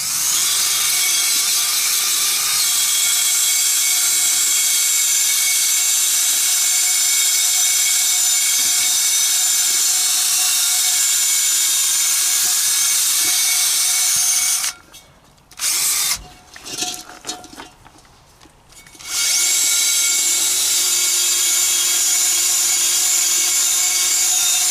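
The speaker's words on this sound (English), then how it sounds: "I'm going to try to attempt to go with a wire brush over the whole thing and try to get it back to raw material" A powered wire brush grinds rust off a cast iron roasting pot, a loud, sustained whine that cuts out for a few seconds in the middle before resuming.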